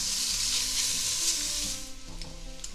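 A whole onion hits rendered smoked ham hock fat with a loud, close, dense sizzle that settles slightly toward the end as stirring begins.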